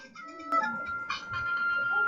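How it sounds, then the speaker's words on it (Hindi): A mobile phone rings during a Class 8 maths lesson on exponents, its electronic ringtone sounding as steady, thin tones that grow clearer in the second half over faint room noise. "ये लो जी अन्नी का फ़ोन है।"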